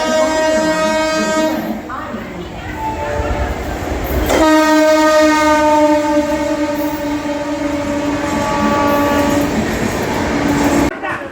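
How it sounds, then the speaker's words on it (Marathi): A passenger train at Jalgaon railway station, departing for Pandharpur, sounds a loud, long horn blast that holds nearly throughout, briefly breaking off midway before resuming, over steady platform and rail rumble. "हीच ती ट्रेन की जळगाववरून पंढरपूरला जाणार आहे आणि ट्रेन आता निघालेली आहे"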